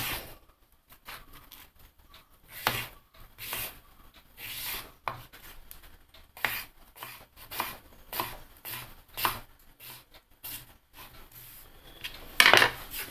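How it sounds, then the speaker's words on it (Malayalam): Peeled brinjal (eggplant) being chopped into small pieces with a knife on a board: a series of crisp, close cutting strokes in uneven rhythm, with soft scraping between cuts and a sharper clatter near the end. "ഇനി ഇത് മുറിച്ചിട്ട് നമുക്ക് ചെറുതായിട്ട് അരിഞ്ഞ് വെക്കണം"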